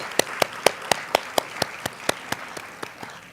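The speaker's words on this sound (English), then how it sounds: "A round of applause," At a diversity conference, a round of applause is given for a group of doctors, heard as one person's slow, evenly spaced claps ringing out singly, about a dozen over a few seconds, fairly distinct against a quiet room.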